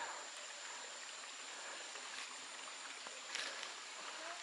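A small Philippine village waterfall, low after a dry spell, trickles steadily in a faint continuous hiss of running water with no voices over it.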